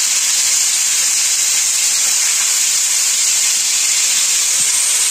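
Potatoes frying in a pan in a Bangladeshi village kitchen, giving a loud, steady hiss that runs unbroken for the whole stretch with no voices.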